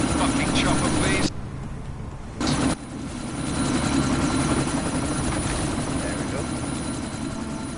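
A helicopter in the Deus Ex Mankind Divided video game, its heavy rotor drone loud and continuous, briefly cutting out then returning and holding steady, with voices talking over it.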